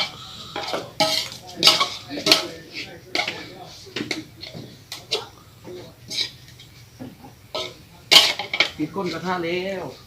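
A cooking pan and metal utensils clatter and clank repeatedly in sharp, irregular bursts, with scraping and stirring in between and some voices around.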